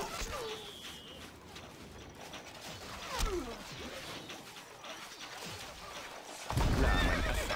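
In the strategy game Stronghold: Crusader, a horse whinnies amid clip-clopping hooves and mechanical clanks, with bursts of game sound effects rising near the middle and at the end over a busy background.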